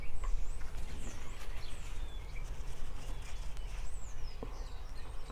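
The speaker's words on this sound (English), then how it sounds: "Can you hear the birds outside?" Starlings singing from a tree outside on a morning, with faint, scattered chirps and whistling calls heard at a distance over a steady background hum.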